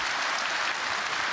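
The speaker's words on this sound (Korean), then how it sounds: "목사님 사역에 승리할 수 있도록 큰 박수로 격려해 주시기" A church congregation claps together in encouragement of a pastor's ministry, a brief, dense burst of steady applause filling the sanctuary.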